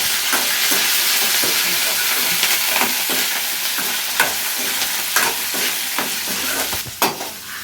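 Cumin, chopped onion, curry leaves, ginger, chana dal and chillies fry in a hot pan for atukula upma, giving a continuous loud sizzle broken by irregular scraping and stirring clicks.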